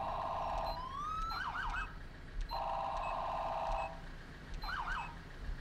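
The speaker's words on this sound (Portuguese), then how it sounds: "Só confirmando que essa sirene tá tudo certinho" A police car siren in GTA 5 alternates between a steady wailing tone and rapid yelping bursts, repeating in cycles at moderate volume over a low rumble.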